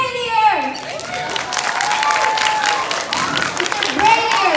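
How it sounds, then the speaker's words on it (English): A school audience of children bursts into applause and cheering for an author, a continuous crowd roar heard close up and loud, with a voice speaking over it at the start. "A round of applause for Max Brallier!"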